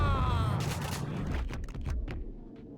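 Gunfire in the shooter game Max Payne, a loud blast followed by a rolling burst of shots and echoing booms that fade into scattered cracks.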